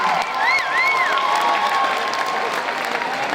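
A panel audience at the Midsummer Scream convention gives a round of applause mixed with cheers and whoops, a lively crowd wash heard throughout with shouting voices rising over it.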